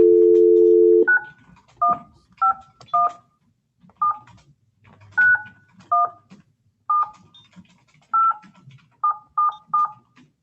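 A telephone keypad dials a number: a steady dial tone gives way to a quick series of short, loud DTMF beeps in irregular clusters, alone with no voices.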